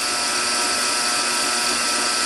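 A knife blade being hollow ground on a flexible J-Flex belt, run a quarter inch off the contact wheel, giving a loud, steady, unbroken whine and hiss that holds at the same level from start to finish with no voices.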